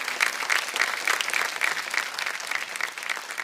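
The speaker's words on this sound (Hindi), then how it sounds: "जोरदार तालियां" An audience applauds at a grand final event, a dense, steady patter of many hands clapping at moderate level throughout with no voices standing out.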